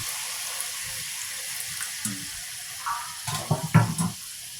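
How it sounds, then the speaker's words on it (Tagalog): Water splashes and trickles briefly into a pan of cooking tofu, a few short pours near the end over a faint background hiss. "Lagyan lang natin ng konting tubig. Konti lang naman."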